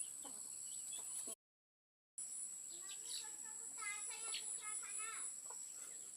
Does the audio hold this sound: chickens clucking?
yes